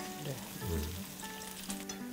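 Garlic-marinated pork back ribs deep frying in hot oil, a steady close sizzle with bubbling crackle throughout and a few soft stirring knocks.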